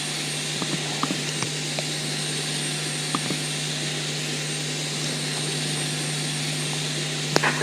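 A Toliss A319 airliner in X-Plane 11 sits in pushback with a steady droning engine and cockpit hum, constant and fairly loud, with faint clicks and no talk.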